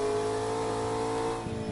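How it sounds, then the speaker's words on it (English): A McLaren P1 accelerates hard on the Nordschleife, its engine droning loudly with a steady, rising tone from inside the car, with a brief shift-like change near the end. "As we accelerate hard"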